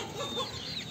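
Free-range chickens, young hens and roosters clucking during late-afternoon feeding on a farm, a few soft, brief clucks and chirps heard faintly and close together.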